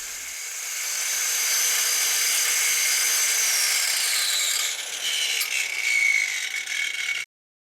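A Jeep Wrangler shock absorber part, from a 2001-2006 model, is ground down with a power tool, producing a steady, loud high-pitched rasping whine that holds for about seven seconds, wavers near the end, then cuts off abruptly.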